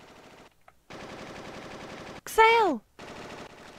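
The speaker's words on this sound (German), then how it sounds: "Was? Schüsse?" Gunfire in the Final Fantasy 8 video game, a rapid burst of shots over a looping background music bed, with a brief voice exclaiming just before a short whooshing effect.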